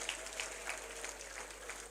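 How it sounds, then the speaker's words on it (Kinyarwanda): A church congregation claps together during worship, giving a faint, distant patter of many hands that holds steady for a couple of seconds. "Amashyi menshi ku mwami wacu."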